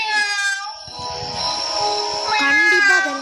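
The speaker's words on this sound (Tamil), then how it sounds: "உண்மையிலே பூனை தான் நினைக்கிறது." A cat meows repeatedly as the answer in a guess-the-sound game, a few drawn-out, wavering cries close and clear with no talk over them.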